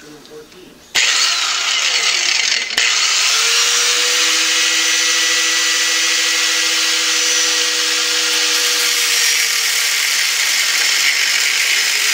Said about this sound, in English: What I was going to do is to pre-cut with an abrasive disc and make a start, and then use the file to finish.